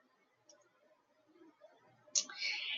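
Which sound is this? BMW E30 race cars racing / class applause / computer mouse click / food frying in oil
computer mouse click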